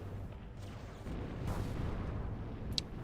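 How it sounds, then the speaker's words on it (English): Steady rumbling barrage of artillery fire in the real-time strategy game Zero-K, dense low booms rolling continuously at moderate loudness with a brief sharp crack near the end. "And down south, a lot of artillery."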